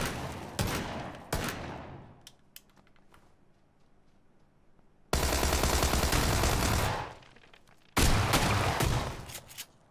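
Automatic gunfire in the game PUBG plays through an Xbox: two short opening bursts, a quieter stretch of scattered shots, then two long, loud sustained volleys of rapid fire.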